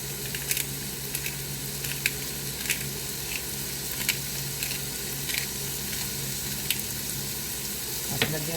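Ampalaya, or bitter gourd, sautéed with egg and seasoned with pepper in a pan for the Filipino dish ginisang ampalaya. A steady close sizzle runs throughout, with occasional stirring clicks and scrapes.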